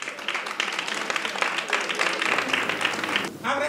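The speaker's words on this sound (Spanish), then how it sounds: "los recibimos con un fuerte aplauso" A carnival audience at a chirigota group competition semifinal in Manilva applauds steadily, a dense wash of clapping with faint voices mixed in.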